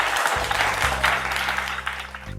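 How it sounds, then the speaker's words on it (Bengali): Loud applause from an audience at a competition prize event at a bank branch, dense steady clapping throughout over a faint low hum. "জোরে হাত তালি।"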